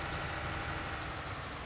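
Fendt tractor engine in Farming Simulator 19 runs at a steady idle, a constant low rumble with no change in pitch or level, alone with no voices.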